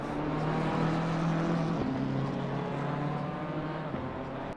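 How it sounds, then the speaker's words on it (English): Race car engines in the sim racing game Assetto Corsa Competizione at the Nürburgring whine steadily at a constant pitch, with gear shifts changing the tone, playing loud and continuous. "cars also might be a bit too loud here"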